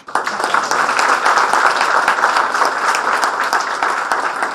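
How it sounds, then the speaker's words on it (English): Loud, sustained applause from a seminar audience at an officers training academy career event, steady dense clapping filling the whole stretch without letup. "I think these claps are not enough for Purvesh."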